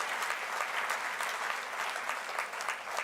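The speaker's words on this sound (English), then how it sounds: "Give yourself a thunderous round of applause." A lecture hall audience at a public lecture breaks into sustained applause, a thick, even roar of many hands clapping from start to finish, moderately distant.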